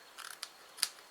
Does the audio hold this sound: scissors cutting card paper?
yes